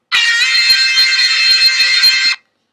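A soloed guitar part played back in Logic during a mix, a sustained bright tone with steady harmonics and soft rhythmic accents, heard alone for about two seconds before stopping abruptly.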